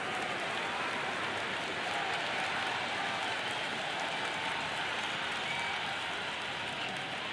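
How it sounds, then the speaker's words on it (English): Steady, dense crowd noise fills a cricket ground during a Big Bash League match in Cricket 26, Adelaide Strikers against Brisbane Heat, a continuous broad roar with a rain-like hiss and no talk. "the crowd have joined the party. It's pretty noisy at the ground."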